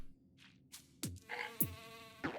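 Buzzing bees in the video game Phobies come as faint, short whirring bursts with swooping pitch glides, scattered over a couple of seconds.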